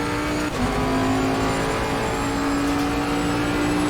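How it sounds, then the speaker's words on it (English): A Bentley Continental GT3 race car engine in Assetto Corsa Competizione drones loudly and steadily, holding a sustained high-revving tone with a brief dip early on. "So that's Bentley Continental GT3 on Assetto Corsa Competizione"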